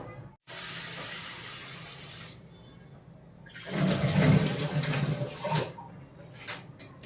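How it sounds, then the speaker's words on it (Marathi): A pot of water at a rolling boil for paneer biryani gives off a hissing, bubbling roar that fades, pauses, then swells louder again, with no talk over it. "तर पाण्याला उकळी आलेली आहे."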